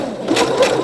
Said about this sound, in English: So I can just press that button while sewing and it will go backwards.